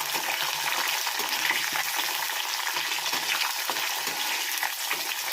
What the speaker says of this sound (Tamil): நல்லா வறுத்து விட்டுக்கலாம்.